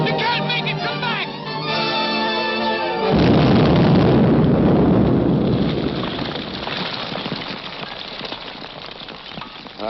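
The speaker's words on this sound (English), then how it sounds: "That explosion got Grogan, too." A loud blast from a 1943 jungle adventure film serial, a sudden roaring burst that swells into a long rumbling, crackling wash of debris and echo before slowly fading, following a stretch of tense music.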